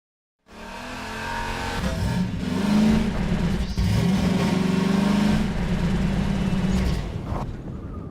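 The buggy engine in Half-Life 2 starts abruptly and roars continuously at high speed. The rising revs and tire squeal stay loud and close for several seconds, then ease off slightly near the end.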